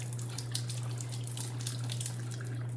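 Water boils in an electric kettle, a steady low hum under a continuous rushing, bubbling hiss, close and unbroken with no speech.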